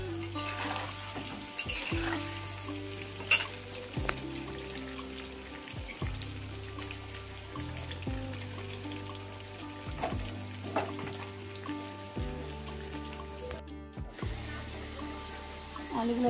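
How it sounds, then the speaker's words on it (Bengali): Potatoes fry in hot oil in a wok, giving a steady sizzling hiss under a backdrop of sustained musical tones that shift every couple of seconds. "আলুগুলো লাল করে ভাজা হয়ে গেছে"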